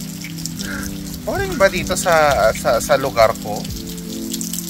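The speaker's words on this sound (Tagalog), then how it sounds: "Kaya salamat dito sa tubig ulan." Steady rain falls as a constant hiss and patter behind someone speaking close by, continuing alone before and after her talk.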